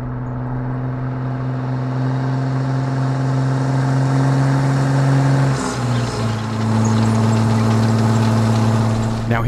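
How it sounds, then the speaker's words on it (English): A British armored vehicle engine in the video game Squad idles with a deep, steady hum, briefly dipping and shifting pitch midway before settling into a lower rumble. "Take a listen to the engine here."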